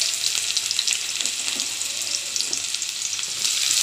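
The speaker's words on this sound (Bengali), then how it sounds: "প্রথমে আমি তেলের উপরে শুকনো লঙ্কা দিয়েছি, তারপরে আমি একে একে পেঁয়াজ কুচি" Dried red chilli and chopped onion frying in oil, a bright continuous crackling sizzle that stays close and fairly loud throughout, with no voices.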